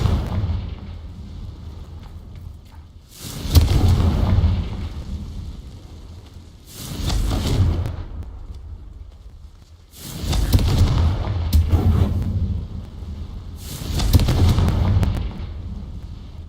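Repeated Confringo fire-blast spell explosions in Hogwarts Legacy, four booming bursts arriving every few seconds with rumbling decays between them, loud and close with no talk.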